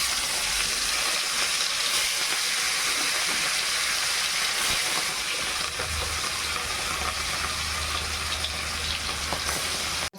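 Large rohu fish pieces fry in hot oil with a loud, steady hiss and crackle, continuous and close for the whole stretch.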